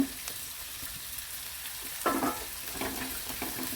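Green chillies and small shallots sautéing in oil in a pan for a chicken roast, a steady sizzle with scraping stirring strokes, one louder burst partway through, close and alone.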